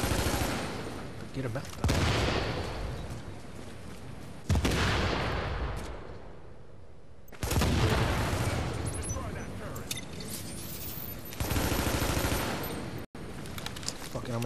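Heavy automatic gunfire from the shooter game The Division rattles in long bursts separated by brief lulls, loud and close, with a voice briefly heard among the shots.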